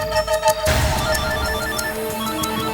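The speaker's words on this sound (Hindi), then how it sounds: "फोन उठा।" A phone ringtone sounds, a bright tonal melody over a dense background that continues steadily.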